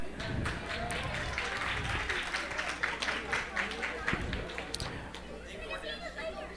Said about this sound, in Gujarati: આ ધીમી ધીમી તમે તાળી પાડી